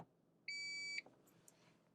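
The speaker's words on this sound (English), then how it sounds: "We're listening for a short and then long beep." A single clear electronic beep from a Lexus UX car rings for about half a second. A couple of soft clicks follow in a quiet background.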